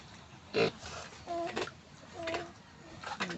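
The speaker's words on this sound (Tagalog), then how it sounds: "Yan, yung dalawang biik na binili natin." Two female piglets, about 25 days old, make several short grunting oinks and squeals up close, spaced irregularly against a quiet background.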